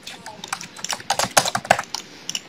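Irregular clicking of keys on a computer keyboard during a Minecraft session, a rapid run of close taps with varied loudness.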